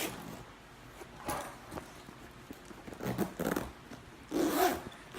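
A two-way zipper on a Filson Original briefcase, pulled in several short, close rasping bursts with pauses between them, the last one loudest.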